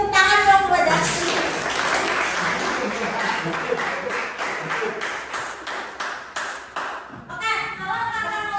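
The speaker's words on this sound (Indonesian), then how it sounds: "Kita beri tepuk tangan dong buat Dasti." A classroom or lecture group claps for a student named Dasti, a brief burst of scattered applause that tapers over several seconds, with voices talking around it.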